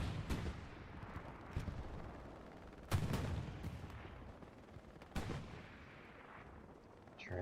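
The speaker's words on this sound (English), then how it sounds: "Luke's firing off into the distance" Gunfire in the World War II shooter Hell Let Loose during a night battle at Foy: three sharp distant reports at roughly even intervals, each rolling off into a rumbling tail over a low, steady battlefield ambience.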